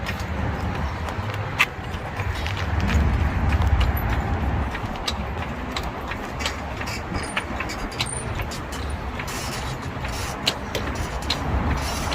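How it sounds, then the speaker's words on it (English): Road traffic passes beside a roadside tire change on a Toyota Tacoma, a broad steady rumble with a vehicle swelling louder midway, continuous and moderately close with small clicks scattered through. "Bit of traffic coming through."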